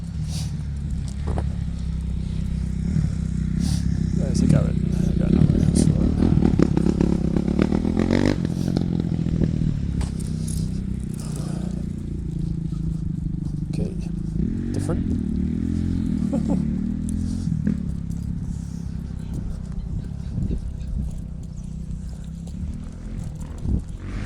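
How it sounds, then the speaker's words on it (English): An off-road dirt bike drones and revs, growing louder as it approaches and passes outdoors, its engine roar rising and falling over roughly twenty seconds while people talk nearby. "And there's an off-road dirt bike coming."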